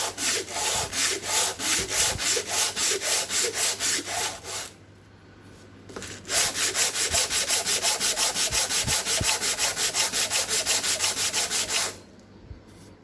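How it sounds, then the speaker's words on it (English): Coarse sandpaper scrapes a scrap wood block in fast, rhythmic back-and-forth strokes. The close, loud rasping pauses briefly midway, resumes and then stops. "You can flatten out one portion of the face with the coarser sandpaper."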